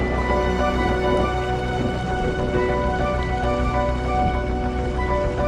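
Heavy rain with hail and strong wind on a riverbank along the Saône, a dense, continuous roar of downpour drumming steadily and loudly without a break.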